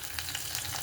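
Curry leaves crackle and sizzle in hot oil with mustard and cumin seeds for a tomato curry, a brief burst of steady frying.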